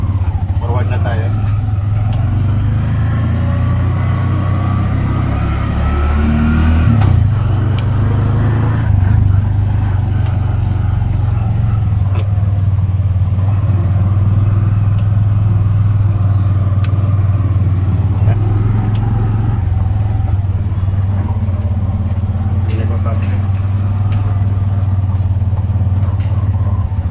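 A Bajaj RE three-wheeled tuk-tuk engine pulls away forward after the clutch is released, a steady close motor drone with light rattling that runs throughout under a voice.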